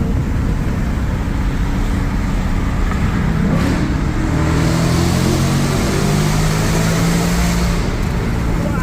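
A race truck with a Whipple supercharger drives through a tunnel with a loud, close, echoing engine drone that builds into a rising, whining pull partway through.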